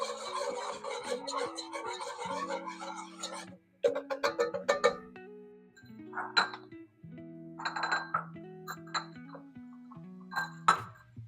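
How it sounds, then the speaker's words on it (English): A metal spoon stirs brown sugar into a barbecue sauce in a pot, scraping and clinking against the sides in a steady stirring rhythm with a short pause partway through, close and fairly quiet. "we're just gonna stir it in right quick and get it mixed up right away"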